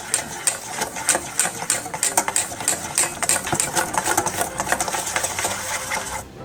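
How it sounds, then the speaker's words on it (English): Wire whisk stirring dry baking ingredients (flour, kosher salt, pumpkin pie spice) in a bowl, a fast rhythmic scratchy clatter of repeated strokes, close and continuous. "Let's stir these together with a wire whisk."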